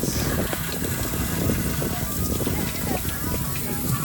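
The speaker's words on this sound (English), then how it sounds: "And a big shower now." An outdoor beach shower runs at Castaway Cay, a steady hiss of spraying water that stays continuous and fairly close throughout, with faint wind noise mixed in.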